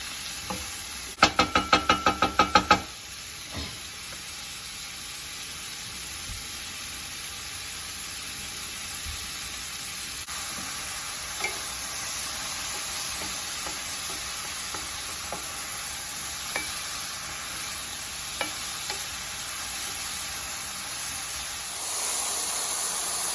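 Mushrooms sizzle in a pan with a steady, hissing fry, opened by a brief burst of clattering as they are stirred, then a long, even sizzle with occasional small pops.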